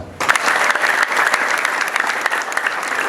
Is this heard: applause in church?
yes